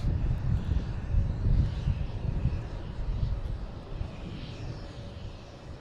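An American Airlines airliner approaching Boston Logan Airport, a low rumbling engine roar that swells and slowly fades under light wind noise outdoors.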